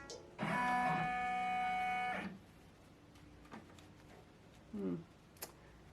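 A sewing machine stitches a large composition notebook cover in one loud whirring burst of about two seconds, followed by quieter clicks and handling sounds and a short squeak.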